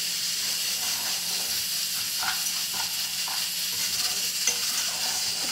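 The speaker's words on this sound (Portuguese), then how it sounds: "Agora eu vou mexer o meu arroz, vou aumentar o fogo." Rice stirred in a hot pan over raised heat fries with a steady close sizzle and hiss, with a few soft scraping stir strokes and no talk.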